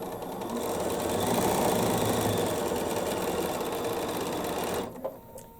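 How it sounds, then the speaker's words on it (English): A sewing machine stitches cut quilt fabric pieces, running in a loud, fast, steady whir for nearly five seconds before stopping abruptly, with no talking. "So we're going to sew that on right now."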